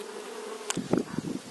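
Honeybees buzz quietly at an opened Kenyan top-bar hive, a soft, low drone with a few closer buzzing bursts as insects fly near, all faint and brief.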